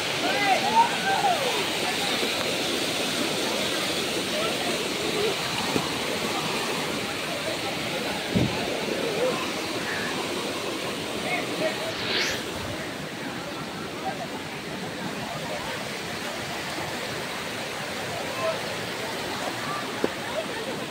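A waterfall near Khopoli roars as a constant broadband rush of falling water, loud and steady throughout with no break.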